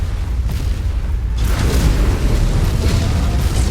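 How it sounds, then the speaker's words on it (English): Weapon fire and explosions in the mech combat video game MechWarrior 5, a loud continuous rumbling roar of blasts with dense low booms and a sharper surge partway through, no talk. "Focus all fire on it."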